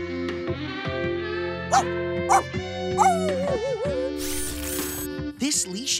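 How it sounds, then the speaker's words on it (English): A cartoon dog barking and yipping in a few short bursts over a bright music bed, with whimper-like squeaks and sound effects mixed in. "Bark twice for a massage."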